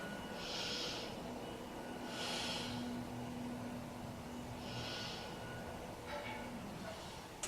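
Slow, deep breaths drawn into the rib cage during a beginner yoga session, three long airy inhale-exhale cycles heard close and soft over a low background hiss.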